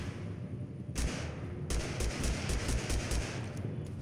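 Rapid gunfire in the TABG video game, sniper shots from an enemy player who has a Grand. A dense volley breaks out and keeps going as a run of sharp, loud cracks over a low rumble, with no talk.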